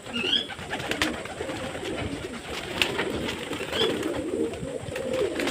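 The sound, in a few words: pigeons cooing while drinking water on a rooftop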